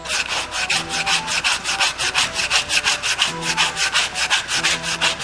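A carved wooden knife handle being sanded by hand, with rapid, steady back-and-forth rasping strokes in an even rhythm, close and fairly loud, no talking.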